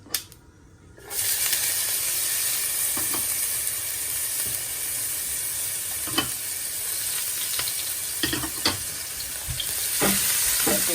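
Chopped ginger and garlic dropped into hot extra virgin olive oil, a sudden loud hiss that settles into a steady close sizzle, with occasional stirring clicks and scrapes and no speech.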